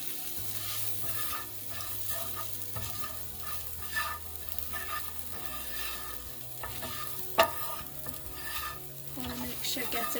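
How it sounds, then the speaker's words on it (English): Chili powder and salt are stirred through frying food in a pan, a soft steady sizzle under repeated scraping strokes of a spoon, with one sharper clink of metal on the pan. "Gonna give that a quick stir."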